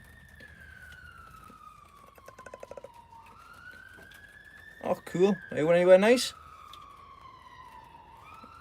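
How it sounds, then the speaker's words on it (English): An emergency vehicle siren wails steadily in the distance, rising and falling slowly through the clip while a person speaks briefly over it midway. "The siren's going past."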